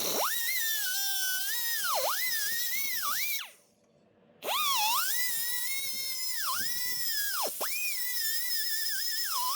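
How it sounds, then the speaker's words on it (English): A power tool whines shrilly while cutting through a bearing cage on a Ford row-crop tractor, a high, wavering grind that dips in pitch under load, stops briefly midway, then resumes. "you're basically going to cut it out to where one of these rollers will fall out"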